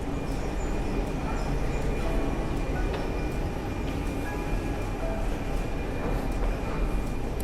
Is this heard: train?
yes